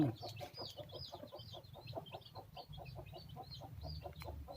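Close, rapid, regular clucking comes from a group of foreign-breed chickens eating bread, a busy rhythmic chatter with a low background hum and no talk.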